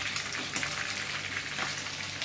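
Fresh danggit fish frying in a pan, with steady close sizzling and popping oil that runs continuously throughout, with no talk.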